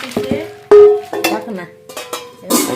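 A thick steel kadhai is handled up close, giving loud metallic clanks and knocks with a short ringing tone amid scraping and rattling.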